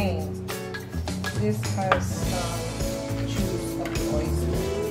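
Salted oysters being mixed for oyster ceviche, with busy clattering of utensils against a bowl running steadily throughout, loud and close, under music and talk.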